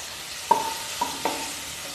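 Tomato pieces fry in a wok as a spatula strikes the pan three times with ringing metallic taps over a faint, steady sizzle, with no voices.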